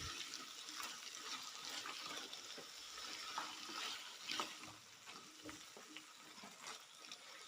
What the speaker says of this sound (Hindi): मूलियों को मिक्स करते हुए मसाले के अंदर हमने 5 मिनट तक फ्राई करना है